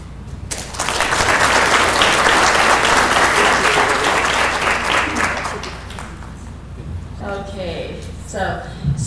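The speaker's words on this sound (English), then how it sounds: "But I hope you give a big hand, a big warm round of applause to Dr. Kuhls and her talk on Las Vegas mass" Conference audience applauding a trauma surgeon's talk on the Las Vegas mass shooting, a loud sustained burst of clapping that swells fast, holds for several seconds, then thins out as a speaker begins talking near the end.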